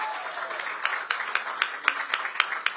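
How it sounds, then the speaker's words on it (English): Applause from a crowd at a 100th birthday celebration for President George H. W. Bush: continuous clapping with sharp, rhythmic claps standing out near the microphone, fairly loud and steady. "How about another round of applause?"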